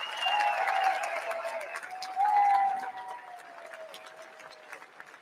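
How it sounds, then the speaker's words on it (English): A large rally crowd at President Trump's event in Butler, Pennsylvania, cheers and applauds for two police officers, with loud drawn-out shouts and whistles rising over scattered clapping, surging midway before easing. "Give him a big round of applause."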